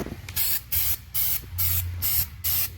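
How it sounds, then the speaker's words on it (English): Brake cleaner sprayed onto the transmission pan of a Saturn Ion in five or six loud hissing bursts, each about half a second long, separated by short pauses, with a low rumble in the background. "give it a couple sprays"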